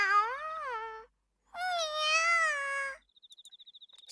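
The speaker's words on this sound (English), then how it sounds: "Straya meows blissfully as I scratch the area under her chin" A cat meows twice in the visual novel game Riddle Joker, the first call short and the second longer and rising, both clear and close, followed by a soft pulsing purr-like tone.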